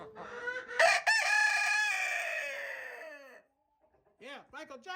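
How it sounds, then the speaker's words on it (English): A backyard rooster that shares a pen with black leghorn hens crows loudly and close by, one long drawn-out cock-a-doodle-doo, followed by a pause and then short clucks. "He's the rooster that's living with the black leghorns"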